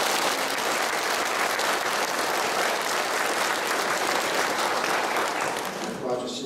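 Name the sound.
audience applause of thanks after lecture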